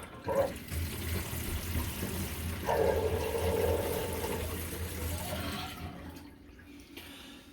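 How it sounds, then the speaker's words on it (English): Water drains quickly out of a filled bathroom sink after a drain replacement, a steady gurgling rush that swells midway and then tapers off toward the end. "So you see how much faster it is drained out."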